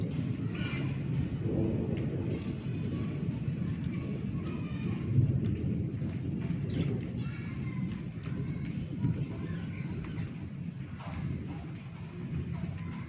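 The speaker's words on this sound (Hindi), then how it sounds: "और ये गरज रहे हैं अभी" A deep, steady rumble of thunder rolls on throughout, with a faint patter of rain and a voice talking quietly underneath.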